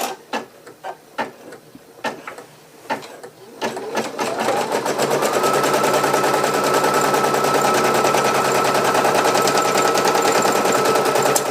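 A Money Maker 1900 embroidery machine stitches a placement outline on fabric for a couples portrait. Sparse needle taps at first build into a loud, steady, rapid mechanical chatter that runs continuously to the end.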